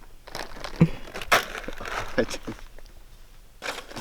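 Crinkling and crushing of a spicy chili Doritos chip bag with Spider-Man theme packaging, crumpled by hand on a backpacking trip in Wayne National Forest; a few bursts of crackling, close and moderately loud, with people talking around it.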